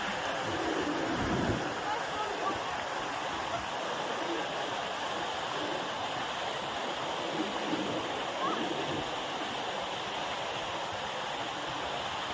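Water pours down a waterfall in New Zealand in a steady, dense roar, broadband rushing that stays constant and fairly distant throughout, with wind on an open viewpoint.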